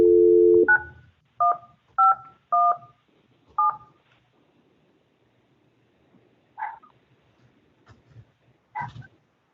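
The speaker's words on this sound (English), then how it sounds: "let's try dialing and see if that works" Touch-tone telephone keypad dialing: a short run of paired beeps, five distinct tones in steady rhythm, clear and close, followed by faint scattered thumps and soft noises with no talk.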